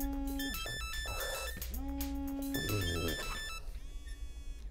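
A phone ringtone melody plays as an incoming call, several tonal bursts repeating at moderate loudness with no talk over it.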